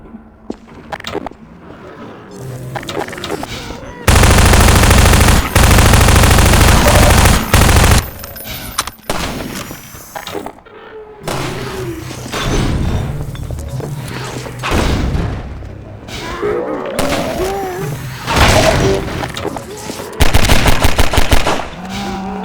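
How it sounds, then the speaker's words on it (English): A rifle fires in Half-Life 2 Episode 1, shooting out a latch: a long, loud sustained burst of rapid shots, followed by scattered shots, heavy thumps and booms. "Let me shoot out the latch. I might be a little rusty with this rifle."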